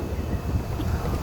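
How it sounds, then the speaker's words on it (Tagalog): A brief burst of strong wind on the summit of Mount Arayat, Pampanga, rumbles against the microphone, low and blustery, with no voices. "Ang lakas ng hangin dyan."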